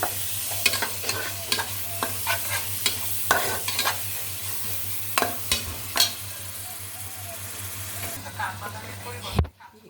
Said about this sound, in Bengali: ভালো করে নেড়ে মিক্স করে দিতে হবে